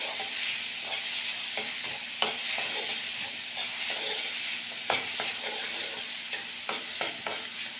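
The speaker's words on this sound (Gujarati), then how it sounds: "પછી ડુંગળીને થોડીક જ વાર સાતળવા દેવાની છે," Onions sautéing in a pan for a Kathiyawadi-style sandwich, a steady sizzle with scattered scraping stirs and clicks of a spoon, close and continuous with no talk.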